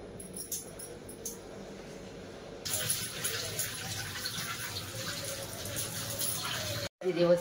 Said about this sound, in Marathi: आता आपल्याला बिर्याणीला लागणाऱ्या भाज्या सगळ्या स्वच्छ धुवून घेऊया.